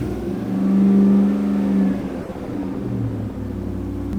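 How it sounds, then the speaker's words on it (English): Land Rover Defender 90 swapped with a Chevy L83 V8 fires up and settles into an uneven idle, a loud close rumbling engine whose revs rise briefly after starting and then waver and hunt unsteadily. "I'm gonna fire the car up and you're gonna see what's going on."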